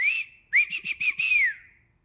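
A person whistles an imitation of a cardinal's call: one rising-falling slurred note, a short pause, then a quick series of bright chirps ending in a long descending slur, close and alone.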